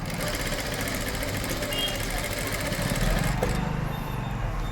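A sewing machine runs steadily while stitching piping onto a blouse, its rapid mechanical whir continuous and close, with someone talking over it.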